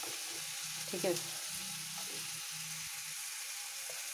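Daliya (broken wheat) roasting in a pan, a quiet, steady sizzle with a few scraping stirs and a brief louder clatter near the start, under a short spoken word.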